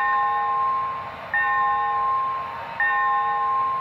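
A bright bell on a Broadway Limited brass hybrid model steam locomotive, a T&P 2-10-4, rings in repeated strokes, two clear onsets about a second and a half apart, each ringing on steadily over a faint hiss.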